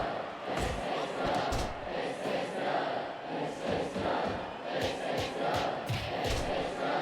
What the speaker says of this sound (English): The crowd coming alive here, and BMD is reeling.